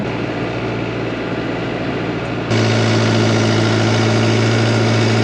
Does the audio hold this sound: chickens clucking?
no